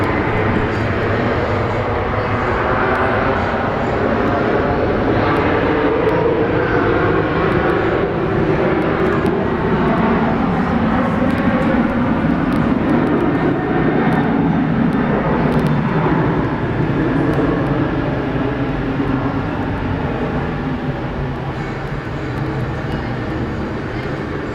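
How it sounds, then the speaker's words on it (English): A Boeing 737's CFM jet engines roar in a broad, sustained rumble, swelling and varying in volume as it powers up for takeoff, heard from a distance outdoors at Brisbane International Airport. "I so want to let this noisy 737 go first."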